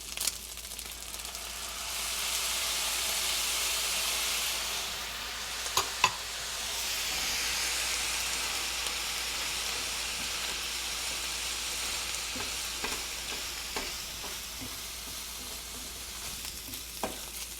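Fried rice with chicken and soy sauce sizzling and frying in a hot pan, a steady close crackle that swells and eases, with a few sharp clinks and stirring scrapes toward the end; no talking.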